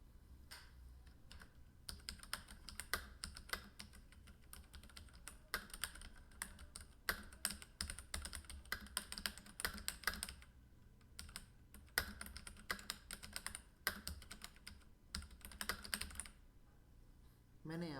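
Someone typing on a computer keyboard, rapid irregular clicks and key taps in bursts with short pauses, faint and close, with a brief quieter stretch near the end.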